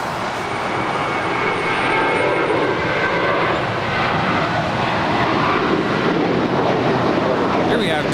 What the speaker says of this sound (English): Here we have JetBlue Airways Flight 324 departing to JFK in New York